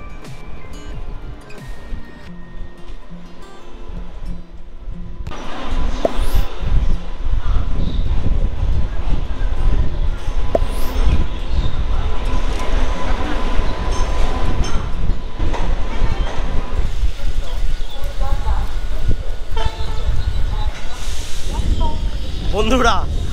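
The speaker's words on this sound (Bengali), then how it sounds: "কিছুক্ষণের মধ্যেই আমার আজকের গন্তব্য নিউ জলপাইগুড়িতে ট্রেন ঢুকছে।" The 05640 Kolkata–Silchar special train pulls into New Jalpaiguri station, heard from inside a sleeper-class coach: a loud, steady rumble and rattle of the carriages with hissing. The noise swells after a quieter start and persists throughout.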